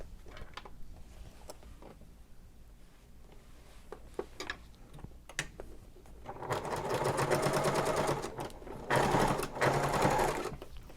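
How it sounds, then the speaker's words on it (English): A sewing machine top stitches toward a pocket on a messenger bag, catching the flap seam allowance, in two bursts of steady whirring stitches after quiet fabric handling and small clicks. "I'm going to top stitch it now towards the pocket"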